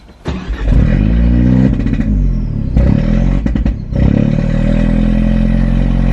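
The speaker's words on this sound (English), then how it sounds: "Once the ECU was flashed and updated with a new map, all I had to do was start the car." An Abarth 124 Spider's engine cranks and fires after an ECU remap, settling into a loud, steady close-up idle with a few brief uneven dips and stutters.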